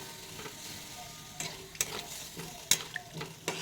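Potatoes being stir-fried with spices for a cauliflower and potato curry, giving a steady soft sizzle broken by scattered spatula scrapes and clinks against the pan.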